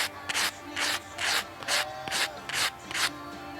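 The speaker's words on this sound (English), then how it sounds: "Sand that black off of there." Silver coin ring sanded by hand to strip black patina from its raised marks, a close, loud abrasive scrubbing in about seven rhythmic strokes with short pauses between.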